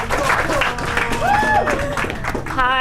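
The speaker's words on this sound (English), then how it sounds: "Clap it up, clap it up," An audience at a spoken-word event applauds to welcome a speaker, loud, dense clapping and crowd noise with voices mixed in and a few whoops rising above the applause.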